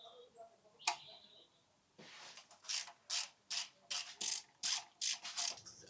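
A ratchet tightens bolts during engine assembly on a MK2 Golf GTI 16V, making about nine short, rhythmic bursts of clicking close by, with a single sharp click first and then a brief pause.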